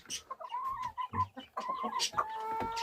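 Lakenfelder hens cluck close by outside on a snowy day, a series of short, varied clucks and murmurs overlapping one another, with no talk.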